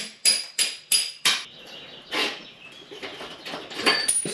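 A hammer tapping out the axle nut on a dirt bike wheel: four sharp metallic taps in quick succession, then a few softer, irregular knocks and clinks nearby.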